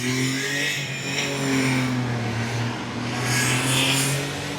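A 1994 Honda Acty mini truck with a rebuilt carburetor and new timing belt and fuel pump accelerates hard on a test drive, its small engine droning loud and close with steady rising revs, no talking.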